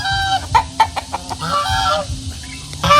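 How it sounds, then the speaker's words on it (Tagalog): Farm geese honk in a cluster of short, nasal calls in a busy barnyard, with clucking fowl mixed in and a louder burst at the end, fairly close. "Tapos may gansa rin tayo dito."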